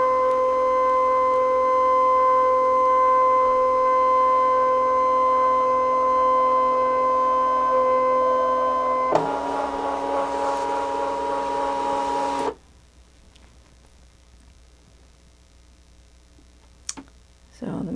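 Brother ScanNCut cutting machine scanning and processing, a steady mechanical whir with tonal hum, then a louder broadband burst for a few seconds before dropping to near silence with a faint click near the end.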